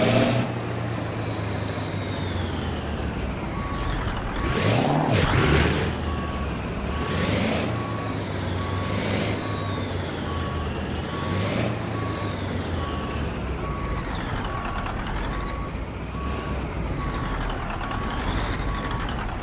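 Truck reversing to hook up a logging trailer in American Truck Simulator, with a steady diesel drone, a continuous reversing beep, and repeated air-brake hisses and engine swells throughout, with no talking.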